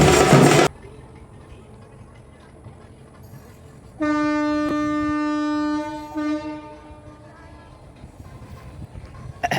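A train rumbles past at moderate distance, with a sustained horn blast in the middle, then fades into quieter background noise.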